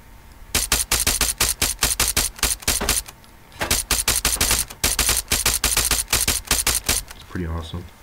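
A rifle in ARMA 3 firing in fast automatic bursts, two long sustained strings of sharp, loud shots separated by a brief pause, followed by a softer mechanical rattle at the end.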